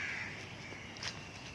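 Crows cawing in the early morning, a faint, distant call over steady outdoor background noise.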